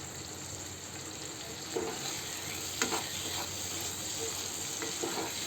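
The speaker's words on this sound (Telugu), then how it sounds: "టమాటో ప్యూరీ వేసుకొని బాగా మిక్స్ చేసుకోవాలండి." Tomato puree stirred into hot oil for a kaju paneer masala, giving a steady sizzle and fry with a few scraping strokes of the spoon against the pan, close and without talk.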